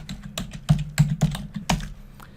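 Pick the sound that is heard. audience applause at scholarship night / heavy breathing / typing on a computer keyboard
typing on a computer keyboard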